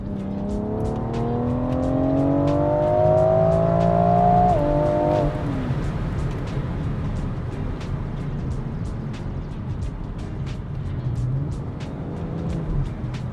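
BMW F98 X4M with an Akrapovic slip-on exhaust, a 200-cell downpipe, resonator delete and original OPFs, revving up through rising engine tones for several seconds, then dropping off into a crackling, popping overrun that settles into a lower rumble.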